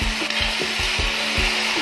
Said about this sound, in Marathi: तर चला भाजी परतून घेऊया।